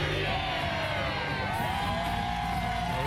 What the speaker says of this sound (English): More cheering from the gang in green and white.